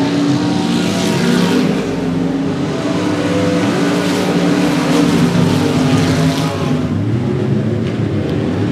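Race cars roaring around a short speedway oval at a regular race program, a dense, loud, continuous engine drone with several cars lapping together and no distinct pass-bys standing out.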